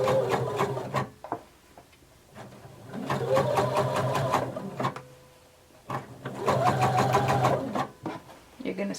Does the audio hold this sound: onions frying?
no